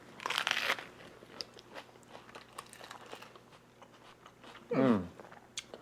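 A bite into a crunchy lettuce wrap with cilantro, a loud crisp crunch at the start followed by quieter chewing and a second sharp bite near the end, close up.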